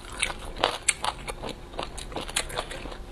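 Crunchy bites and chewing of shredded pickled bamboo shoots in a sour-spicy Chinese snack, close and crisp, with repeated irregular crunches over about three seconds and no talk.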